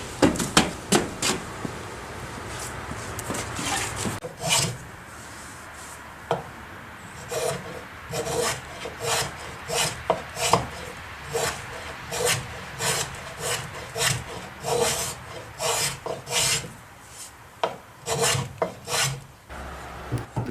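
A drawknife shaves a wooden bowl clamped in a shaving horse, giving a long run of close, rasping wood-cutting strokes in an uneven rhythm, loud and sharp, with no voices.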